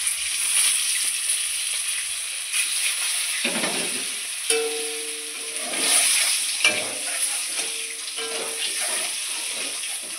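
Eggs frying in oil seasoned with turmeric and salt give a steady close sizzle with stirring and scraping noises, while a few faint tonal clinks or hums rise midway through.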